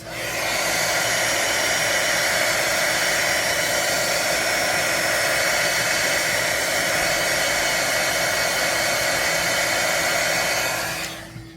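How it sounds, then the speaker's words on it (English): A heat gun blows hot air over resin to clear bubbles, a loud, steady whooshing roar that holds constant for several seconds, then cuts off abruptly at the end. "I'm going to use my heat gun, so excuse the noise"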